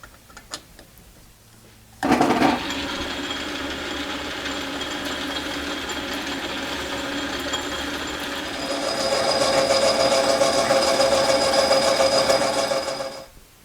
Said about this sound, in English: Okay, I've got the tap size drilled all the way through